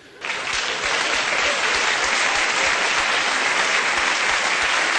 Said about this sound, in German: Ja, da klatschen Sie.